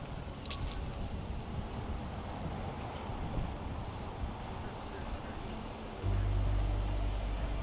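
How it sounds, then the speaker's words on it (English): Strong wind blowing outdoors in a historic park on Salem Common, Massachusetts, a steady low rumbling buffet across the whole stretch that swells louder near the end. "it's windy out"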